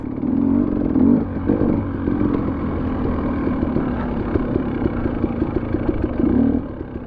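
Dirt bike engine racing through a rough hare scramble course, close and loud throughout, with rapid revving and clattering as the throttle rises and falls, no talking.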